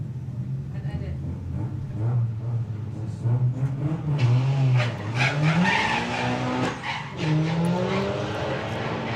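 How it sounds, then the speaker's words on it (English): Drag racing cars launching at Santa Pod during VW drag racing qualifying, tyres squealing and engines revving and climbing in pitch, with a commentator talking over the noise throughout. "We can hear the tyres protesting there for Sam."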